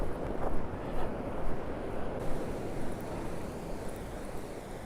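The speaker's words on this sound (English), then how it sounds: "That wind is really strong" Strong, bitterly cold wind buffets the microphone on an open winter beach, a loud, continuous, gusting roar that swells and eases, with a faint wash of surf beneath it.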